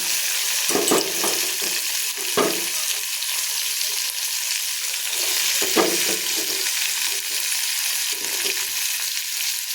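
Bitter gourd pieces frying uncovered in an open pan, a steady bright sizzle throughout with a few louder scraping stirs from a spatula scattered across it.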